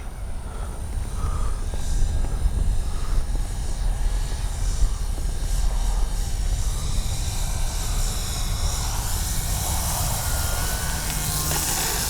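A small RC model F4U Corsair warplane engine drones steadily overhead in flight with a high buzzing whine, holding a constant pitch throughout.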